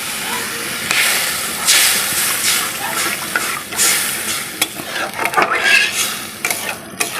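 Water hits a pan of sizzling spice masala, bursting into loud, hissing steam and crackle that surges and pulses unevenly, with stirring scrapes throughout.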